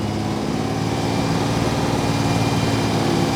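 A 1967 Unimog 404 truck's engine runs steadily and close by while crawling along at walking pace, a constant low, rough drone that holds an even level throughout.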